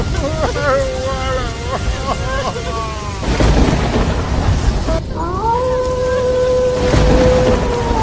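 Heavy rain with rumbling thunder pours steadily and loudly throughout, while a voice cries out in pained, drawn-out wails over the downpour.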